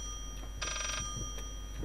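A telephone rings once inside the horror game Layers of Fear, a short bright electronic ring cutting through steady low ambient drone, with fainter ring echoes after it.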